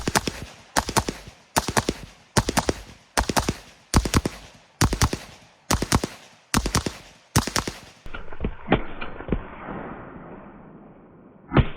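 Rifle shots at a training range crack out in a quick, even series of about ten sharp reports, then a few fainter shots and echoes follow.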